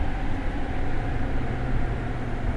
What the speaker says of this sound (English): It sounds like the train is slowing down.